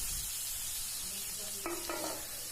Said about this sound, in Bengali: তো মাংসটা এরকম নাড়াচাড়া করতে হবে, কারণ মাংস আর মশলা একসাথে কষে নিতে হবে